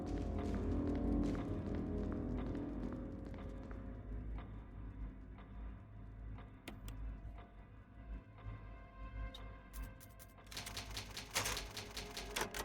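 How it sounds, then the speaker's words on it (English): Typewriter save in the video game Resident Evil 1: rapid, faint mechanical key clacks over a low ambient game drone, with a brighter burst of typing near the end. "I'm gonna go save at this typewriter."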